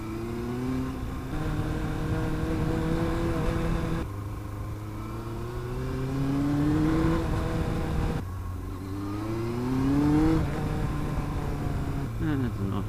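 Car engines rev and drone past, pitch rising and falling in repeated sweeps, loud and steady throughout.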